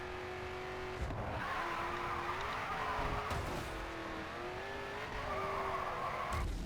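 A race car in the Grid 2 video game skids with squealing tires and takes several crunching impacts, heard at a fairly quiet level with no talking.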